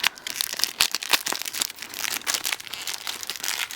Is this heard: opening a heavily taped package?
yes